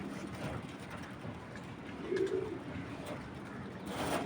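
Fancy domestic pigeons coo softly once or twice in a quiet indoor space, faint and distant under low background hum.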